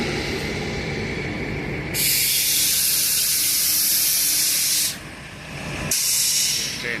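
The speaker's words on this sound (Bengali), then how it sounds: "একটা সুন্দর ট্রেন আপনারা দেখলেন বন্ধুরা" A train passing through Badkulla railway station in Nadia, India, roars with loud, hissing wheel and rail noise over a low rumble, easing briefly before surging again, close and continuous, no voices.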